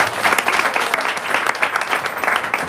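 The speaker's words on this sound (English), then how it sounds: "we have a big applause for" An audience at a temple's 50th anniversary celebration in New York bursts into sustained applause, many hands clapping together in a dense, steady patter.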